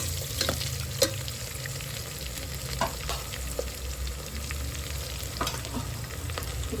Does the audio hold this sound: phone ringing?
no